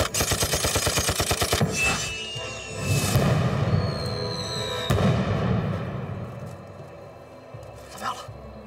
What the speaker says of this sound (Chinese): 不行，敌人的火力太猛了